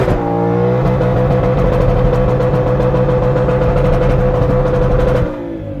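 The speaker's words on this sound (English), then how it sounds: "That is line lock with the GT500." A 2020 Ford Mustang GT500 with 760 horsepower doing a line lock burnout, its engine held at a loud, sustained high rev with a steady droning tone before cutting off abruptly near the end.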